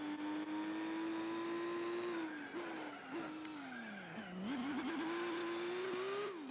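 Car engine in the racing game Gran Turismo 4, a steady droning whine that drops and rises as the car shifts and accelerates, loud and continuous with no voices.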